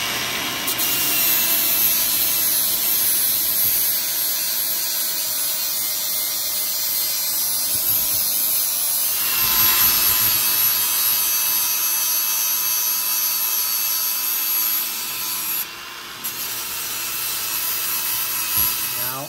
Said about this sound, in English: I'm going to cut the bumper.